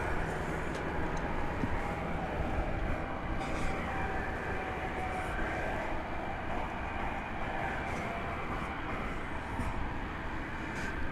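A FedEx heavy jet takes off at DFW Airport at night, its engines a steady, loud broadband roar that holds level throughout with no talk over it.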